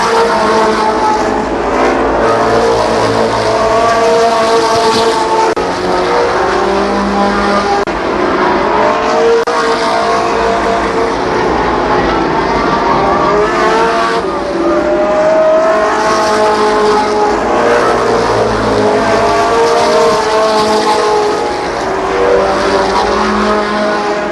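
Late-summer 1993 ARCA Pro 4 race cars circle Columbus Motor Speedway, several engines droning and overlapping in a loud, continuous roar that rises and falls as the field passes, with no one speaking.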